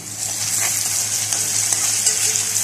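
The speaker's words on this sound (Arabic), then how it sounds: "وهحمر كده البصله" Onion frying in a pan as the base for an okra and meat tagine, a steady, close sizzle that continues throughout.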